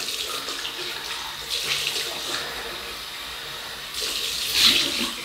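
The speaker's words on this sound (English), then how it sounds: "Cold water rinse." Tap water runs steadily for a cold rinse during a shave with a King C. Gillette double-edge razor, a broadband hiss that swells briefly near the start and again toward the end, close by with no talking.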